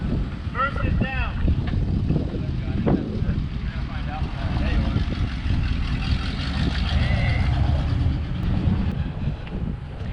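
A 1978 GMC squarebody crew cab truck on the move, its low engine rumble buried under heavy wind buffeting and road noise throughout, with a voice briefly near the start.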